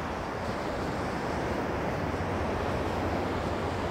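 Ocean waves crash on a beach on a rainy day, a continuous broad roar of surf mixed with wind buffeting the microphone, steady and moderately faint throughout with no talking.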